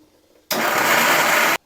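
A kitchen blender grinds onion for gravy in one loud, steady whir that starts abruptly, holds for about a second, then cuts off.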